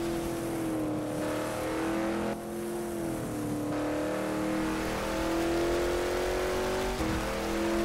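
A carbon fiber GT car engine roars in the Rebel Racing video game, a continuous loud revving drone that rises and dips through gear changes across the whole stretch, with no talking.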